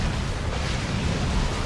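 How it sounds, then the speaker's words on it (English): A creeping artillery barrage in the Dawn of War 2 strategy game, Imperial Guard against Tyranids, heard as a dense, continuous rumbling roar of overlapping explosions, loud and steady without clear gaps. "It's another creeping barrage."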